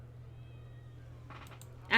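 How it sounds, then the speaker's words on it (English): A cat meows in the video game Dragon Age: Origins, a brief, faint call near the end over a low steady hum, with a louder burst right at the finish. "I did hear a cat meow in the game."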